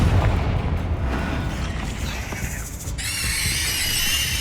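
A Confringo blasting curse fires in Hogwarts Legacy, a booming magical burst amid game effects, followed by a bright shimmering ring that hangs on to the end, loud and close.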